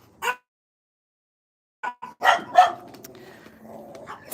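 A little dog barks in a backyard: one sharp bark, a pause, then a burst of several quick barks and yips close by, trailing into quieter whines and low rustling.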